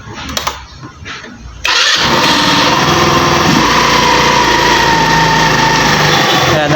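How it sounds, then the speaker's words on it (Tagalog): A motorcycle engine, under repair for a charging problem, cranks and catches at about 1.7 seconds, then settles into a loud, steady, high-pitched running note with no talk over it. "I-start na natin yung motor."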